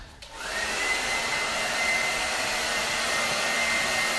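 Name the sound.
blow dryer drying hair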